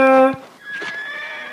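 A horse neighs in one loud, close, tonal whinny that cuts off quickly and is followed by softer, thinner trailing sounds.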